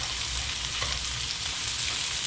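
Onions fry in a pan for Kapampangan-style duck kaldereta, a dense, even sizzle close up and fairly quiet throughout this short stretch, with no voices.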